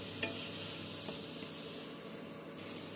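Tomato paste frying in spiced oil for a vegetarian curry, a low continuous sizzle with a couple of faint stir clicks, quiet and close, no voices.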